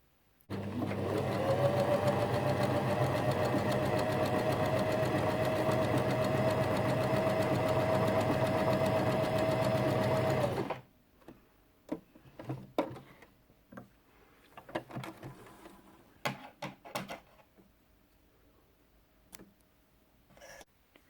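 A Janome FD206 sewing machine stitches steadily for about ten seconds, a loud, even mechanical whir with a fine rapid ticking, then stops and leaves only scattered quiet clicks and handling noises.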